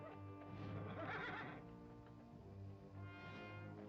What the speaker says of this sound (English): Lovely horse.